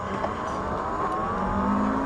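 A dual-motor Lectric XP e-bike climbs a steep hill on throttle with a steady, close whirring motor drone and rushing wind noise, and no voices.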